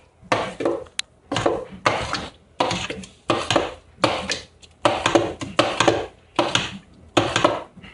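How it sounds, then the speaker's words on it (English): A big spoon stirs homemade salsa in a bowl, a series of wet scraping, sloshing strokes in a steady rhythm with short gaps, close and clear. "now we're going to get a big spoon and we're going to stir this together."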